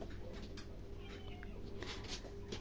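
One of several house cats in a home meows faintly once or twice amid steady room noise and background hiss, with no clear talk.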